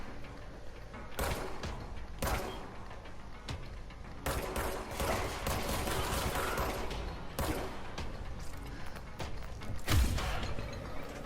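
Enemy gunfire in the game Control, sharp shots and short bursts cracking out at irregular intervals over a continuous background hum, fairly loud and close.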